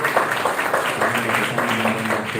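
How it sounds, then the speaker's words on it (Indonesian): An audience claps at a Balinese-language workshop event, producing a moderate, even patter of applause that continues steadily throughout with a faint tonal hum beneath. "Oke, tepuk tangan sekali lagi."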